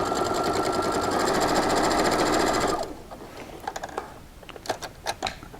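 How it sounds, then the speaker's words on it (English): A sewing machine runs steadily stitching a quarter-inch seam on a chenille quilt, a loud, fast, even mechanical hum and rattle that stops abruptly partway, followed by scattered faint clicks and handling taps. "And now I'm just going to begin doing basically a 1/4 inch seam allowance."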